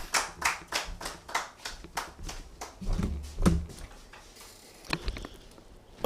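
A small studio audience claps for a guest being introduced on a talk show, with distinct, fairly sparse hand claps in a loose rhythm that thin out toward the end, no voices over them.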